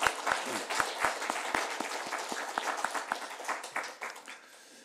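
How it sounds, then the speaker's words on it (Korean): A church congregation claps together during a Sunday worship service, a steady run of applause lasting several seconds that fades toward the end. "이렇게 응원의 박수, 그리고 하나님께 영광의 박수"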